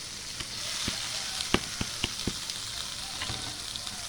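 Tomatoes, spring onion and shallots stir-frying in a pan, a steady close sizzle broken by several sharp pops and spatula clicks, with no talk over it.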